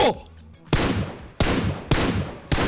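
Gunfire in the video game PUBG Mobile: four loud, close gunshots spaced roughly half a second apart, each a sharp blast with a short decaying tail.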